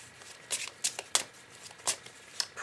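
Oracle cards shuffled for a love reading, giving a series of quick papery riffles and flicks, each burst brief and crisp, spaced irregularly and fairly close, with no voice over them.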